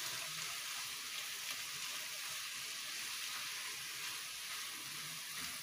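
A quiet, even sizzle of peppers frying in a pan, a soft hiss continuing without pause.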